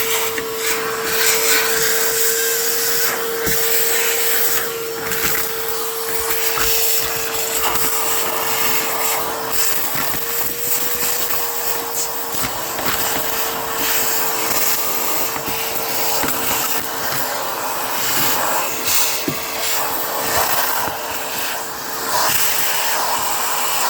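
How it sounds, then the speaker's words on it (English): A vacuum cleaner sucks dirt and crud from the floor of a 1976 Chevrolet Nova with a loud, continuous roaring whine and a steady tone throughout. "So I'm going to vacuum out all the dirt and crud"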